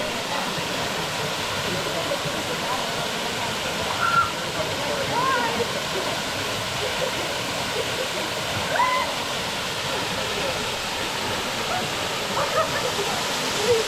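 A waterfall at Daly River pours steadily in a broad, even roar, with people splashing and faint voices talking at a distance.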